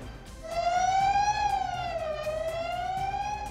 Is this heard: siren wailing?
yes